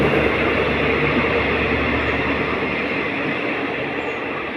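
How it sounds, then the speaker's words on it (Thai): A passenger train from Ubon to Bangkok rumbles steadily at close range, a constant broad roar of wheels and engine with no voices, easing slightly toward the end. "อันนี้รถไฟอุบลกรุงเทพ"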